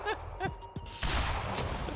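Gunfire in the video game Quantum Break: a few sharp shots early on, then a louder burst of shooting that carries to the end.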